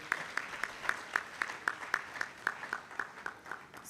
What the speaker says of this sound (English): Please, let's welcome her with a round of applause.